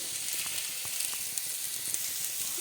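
Tender young radish fries in a pan with a soft, steady sizzle, faint crackles and a few light stirring clicks scattered through the short stretch.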